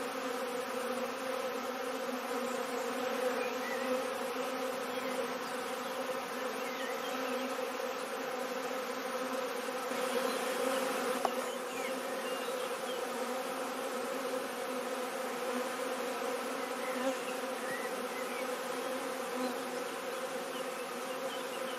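Honeybees buzz steadily as a swarm is hived into a chalet-roof refuge hive, a dense continuous drone throughout with a slight swell in the middle, no voices.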